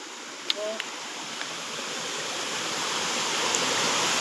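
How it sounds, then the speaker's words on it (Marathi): A strongly flowing stream in a Konkan village where fish are being caught, a steady broadband rush of water filling the whole clip, fairly close and unbroken, with a few faint clicks and no talk. "पाणी बघा कसला भारी वाहता आहे"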